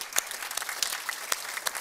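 Audience at a talk on love and relationships applauding themselves, a steady patter of many hands clapping at moderate distance, with no speech over it.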